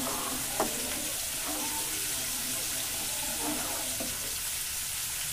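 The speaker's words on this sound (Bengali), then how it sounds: "আবারও নাড়াচাড়া করব" Firni being stirred in a pot, a soft continuous simmering hiss with a few light scraping strokes of the spoon at irregular intervals.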